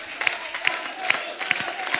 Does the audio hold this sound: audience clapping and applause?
yes